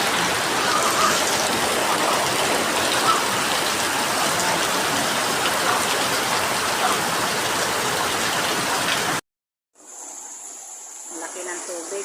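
Heavy rain pours down outside amid rushing flood water, a loud, dense roar that holds steady for about nine seconds before cutting off abruptly to near silence, then returning faintly.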